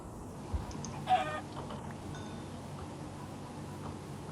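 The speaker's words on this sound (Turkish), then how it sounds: "10 tane tavuk yapalım" Chickens in the Minecraft video game give a couple of short, quiet clucks early on, then fall silent against a faint, steady background with no speech.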